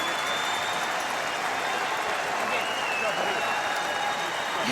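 Arena crowd cheering and applauding Canada's curling victory after an 11-0 round robin record, a steady wash of clapping and cheers heard at moderate distance throughout, with no pause.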